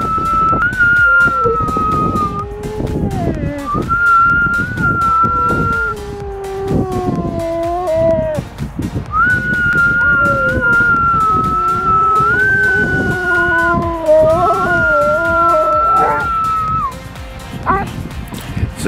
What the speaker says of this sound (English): It was roughly around 5 a.m. and an ambulance was passing by because the street is right there